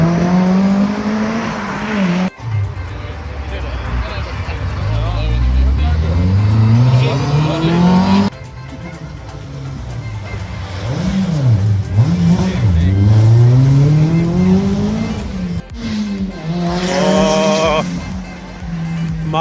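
A Mazda 323 rally car on tarmac at a Speyside rally revs hard and shifts through gears as it passes at speed, loud and close, with rising engine notes and a sharp gear change, while spectators talk nearby.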